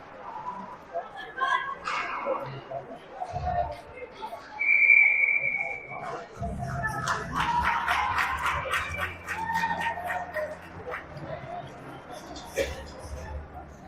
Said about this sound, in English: Finally gets a gracious whistle